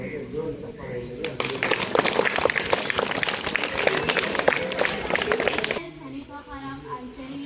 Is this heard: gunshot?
no